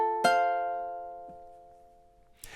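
A single ukulele strum of a chord from a song rings out clearly and decays slowly, followed by a soft second note and a brief noisy rustle at the end, with no speech.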